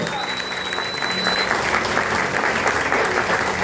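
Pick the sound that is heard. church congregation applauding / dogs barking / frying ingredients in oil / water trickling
church congregation applauding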